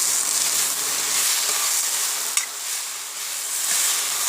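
Taro stems with black pepper stirred in a hot pan, a steady bright sizzle with soft scraping and one sharp clack of the utensil partway through, with no voices.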